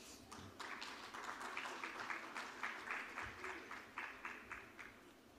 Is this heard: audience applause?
yes